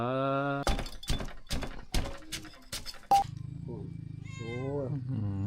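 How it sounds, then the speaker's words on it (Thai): A cat meows, then a series of sharp knocks and thumps rings out, followed by more drawn-out meowing near the end. "โอ้แมวก็มากินน้ำ"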